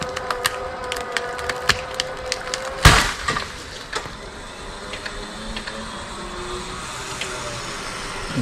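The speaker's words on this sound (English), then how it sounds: "You can hear the roots breaking." Bush roots snap and crack under tension from a Harbor Freight Badlander winch outdoors, a series of sharp splintering pops with one loud crack, over low steady background noise.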